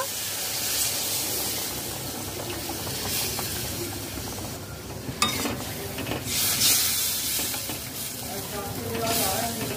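Hot spice masala for a prawn malaikari sizzles and hisses in the pan as Amul powdered milk dissolved in hot water is poured in and stirred, a steady close frying hiss with spoon scrapes under someone talking.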